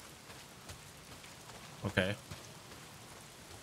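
Heavy rain in the video game Days Gone, a soft steady hiss of downpour at low level throughout, with a short spoken word breaking in briefly midway.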